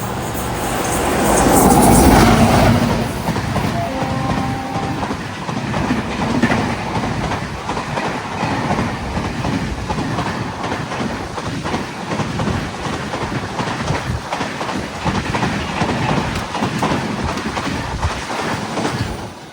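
The Ernakulam Express races past a station at speed: a loud, continuous rolling roar with rapid wheel clatter that surges at the start and stays heavy and close throughout.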